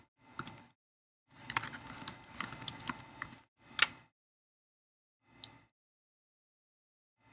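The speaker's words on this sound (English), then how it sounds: "Type in your greeting." Bursts of keystrokes on a computer keyboard while typing a holiday greeting into a photo editing program, close and clear, in several short runs separated by pauses, with a few isolated key taps near the end.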